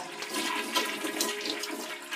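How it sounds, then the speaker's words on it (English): A toilet flushes close by, a steady rushing swirl of water running without pause and with nobody talking. "Flush it."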